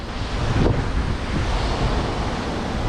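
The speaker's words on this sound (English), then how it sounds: "Wind is definitely picking up down here." Steady wind roars and buffets the microphone under a bridge by the water, with a continuous rushing whoosh like surf in the background; no voices.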